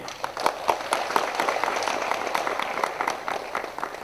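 Audience applause at a Karnataka Dalit Sangharsha Samiti golden jubilee gathering, a crowd clapping steadily and densely for about four seconds to approve a proposal, fairly loud and continuous with scattered sharper claps.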